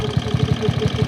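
A Triumph Tiger Cub motorcycle engine idles close by, a rapid, even low-pitched thumping pulse of single-cylinder firing with a slight mechanical clatter over about a second.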